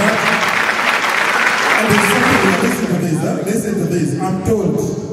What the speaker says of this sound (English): One hand of applause for that.